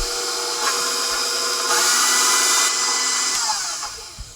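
An electric stand mixer beating peanut butter cookie dough, a continuous high motor whir with shifts in pitch and load as the speed changes, close and steady with no talking.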